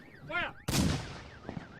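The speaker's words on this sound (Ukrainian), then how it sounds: "Між радянськими і німецькими солдатами зав'язується стрілянина і бійка руками" Gunfire at a WWII battle reenactment between Soviet and German soldiers: a sharp, loud shot bursts out and rings off, with a fainter pop later and a whine-like tone before it.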